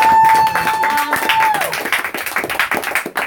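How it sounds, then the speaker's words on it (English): Applause for youth scholars at a community radio gathering, a scattering of hand claps rising after a sustained tone, uneven and moderately close, with some voices mixed in. "Can we give a big round of applause to the youth scholars?"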